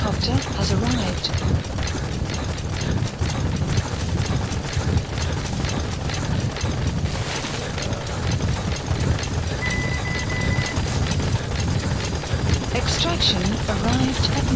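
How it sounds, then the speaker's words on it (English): A support helicopter arriving in Metal Gear Solid V, a loud continuous rotor rumble with rapid chopping pulses that persists throughout, alongside mechanical clatter and brief bursts of radio-style talk. "Support helicopter has arrived."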